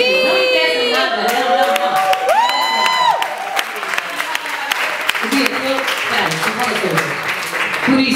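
An audience applauds at a birthday celebration, a dense wash of clapping that builds and holds steady, with whooping, cheering voices and sung tones on top of it early on.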